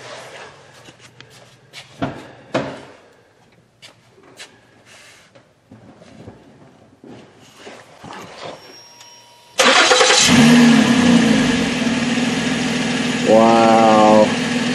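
A 2011 Ford Edge with a newly installed Y pipe cranks and fires up partway through, settling into a steady idle with one brief rev near the end. Before that come scattered clanks and shuffling, with voices heard throughout.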